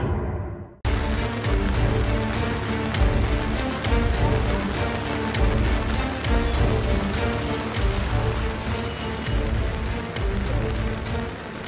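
Heavy monsoon rain pours onto floodwater in Bhiwandi near Mumbai, a dense and steady hiss with constant patter that starts abruptly and continues loudly throughout.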